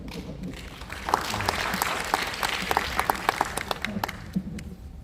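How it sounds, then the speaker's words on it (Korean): An audience at a policy forum applauds steadily, a dense wash of clapping with a few sharper claps standing out, moderately loud throughout. "큰 박수 부탁드립니다."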